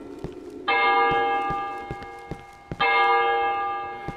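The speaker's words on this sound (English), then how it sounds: "I hope that's not the dinner bell for zombies!" Bell in the video game Cry of Fear, two loud resonant clangs about two seconds apart, each ringing out and fading slowly, with footsteps ticking steadily underneath.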